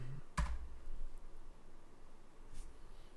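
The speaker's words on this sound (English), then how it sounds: "that is Nicole in the background, banging away on the keyboard" Computer keyboard typing in the background, a burst of key clatter with a distinct thump near the start and lighter tapping later, faint and somewhat distant under room noise.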